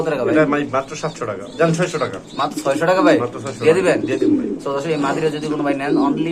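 Pigeons at a bird market coo softly in low, rolling calls beneath close, steady conversation.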